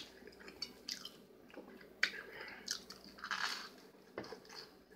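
Homemade garlic bread made from hot dog rolls is bitten and chewed up close, with soft crunches and moist squishy chewing in a quiet room, a few sharper bites standing out.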